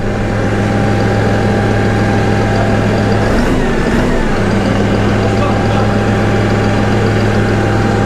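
Deutz Fahr 70 F tractor engine idling steadily, a constant low drone with a brief change in tone midway.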